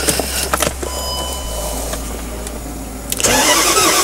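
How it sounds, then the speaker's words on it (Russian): A Range Rover with a problematic, knocking engine and a lit check-engine light is cranked and fires up, a loud close start settling into a raised, rough idle. "Уже вместе с вами послушаем, как стучит мотор."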